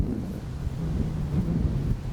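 Strong wind rumbles continuously across a golf course, buffeting the microphone with low, gusty roaring and no clear voices.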